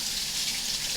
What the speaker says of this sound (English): rinse off your vegetables for sure